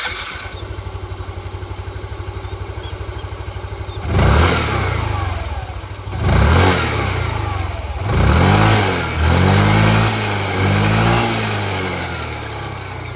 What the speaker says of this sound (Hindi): तो चलिए यहाँ पर इसकी जो एग्जॉस्ट साउंड है वो भी मैं आप लोगों को यहाँ पर सुना दूँ।